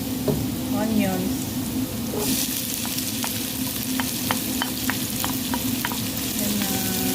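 Onions sizzle and fry in a pan while chicken biryani is cooked, with a steady crackle and repeated stirring scrapes partway through. Faint talk sits in the background.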